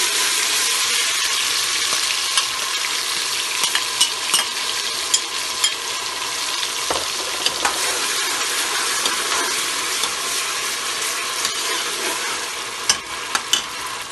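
Steady loud sizzling of onions, garlic and ginger frying in a pot, with occasional clinks and scrapes of stirring throughout.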